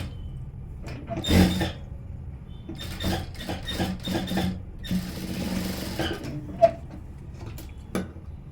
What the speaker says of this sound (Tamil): சேர்த்து வச்சுட்டு அங்கேருந்து தையல் போடுறேன்.